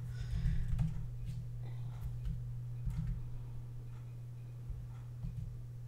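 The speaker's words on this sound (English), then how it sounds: "So I'm gonna type in map" Soft keyboard typing on a computer while entering a search for map pins in Xcode, a quiet scatter of light taps over a steady low hum.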